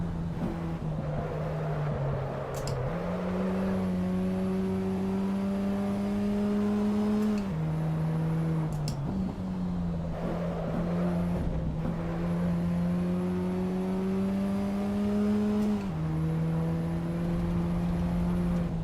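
A car driven in the racing game Assetto Corsa Evo holds a steady, droning engine note that climbs through the gears, with brief dips at each shift and a thin high whine, continuous and alone.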